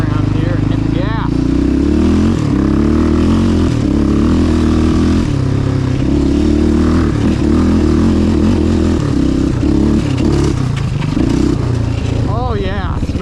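A Yamaha Raptor 700 ATV revs and accelerates hard, its loud, steady engine roar dominating close up throughout with rising pitch sweeps near the end.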